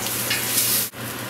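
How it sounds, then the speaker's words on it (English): Thick tomato paste fries in a pan over high heat for a Sunday gravy, giving a loud, steady close-up sizzle with a brief dip near the end and no talk. "You really want to fry this paste."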